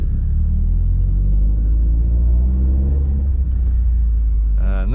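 A 1994 Subaru WRX on the move, heard from inside the cabin as a steady low engine rumble and road drone that holds for the whole stretch, with faint voice-like sounds near the end.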